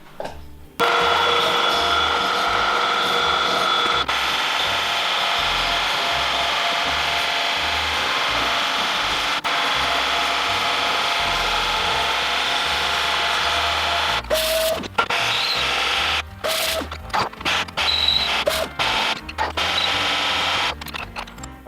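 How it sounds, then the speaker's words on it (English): A milling machine cuts a flat on a DIY billet flywheel for a minibike, producing a loud, steady grinding whir that runs continuously, then breaks into intermittent cutting bursts near the end. "I'm just going to machine this flat now. So let's go over to the mill."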